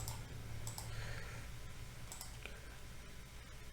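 Numbers typed on a computer keyboard come through as a few faint, sharp key clicks scattered over a quiet room hum, with brief pauses between taps.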